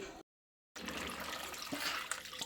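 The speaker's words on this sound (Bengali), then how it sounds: "তো আমি দুবার জলটা দিয়ে ধুয়ে নিচ্ছি। এই জলটা প্রথমে চেঞ্জ করে নিচ্ছি," Water poured and running while raw mango pieces are washed for pickle, a continuous splashing, trickling flow at close range after a brief silent gap, moderately quiet with no talking.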